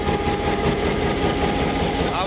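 An old, worn Pakistan Railway GMCU 15 4910 diesel locomotive, a 45-year-old banker engine, rumbles steadily nearby with a dense, continuous throbbing drone.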